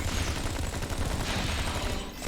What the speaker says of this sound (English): instead of using a singular weapon that only hits one target, why not hit every target with a bullet swarm?